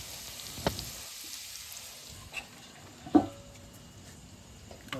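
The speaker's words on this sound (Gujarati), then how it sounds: "ભાઈ ભીંડાની ઠીંગું તળે છે" Okra frying in a pan of hot oil for a fish and prawn curry meal, giving a steady soft sizzle throughout with a few sharper pops and crackles, fairly quiet and close, with no talking.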